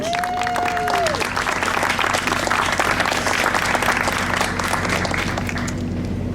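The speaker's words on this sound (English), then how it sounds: "Everyone, let's hear it for our special guest today, Stuart Sink." A large crowd applauds loudly and steadily for several seconds, the clapping sustained throughout and easing slightly at the end, with a brief tone at the start.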